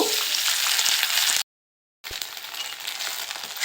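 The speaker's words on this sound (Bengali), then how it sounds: "সামান্য পনির ভেজে নেব" Paneer frying in a pan gives a close, bright sizzle that drops out for a moment of silence, then resumes just as steadily.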